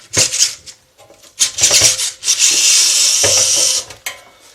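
A screwdriver unscrews the casing of a Tesla MMA 277 welder whose diode bridge has failed, making close scraping and rasping bursts, with one longer grinding turn partway through.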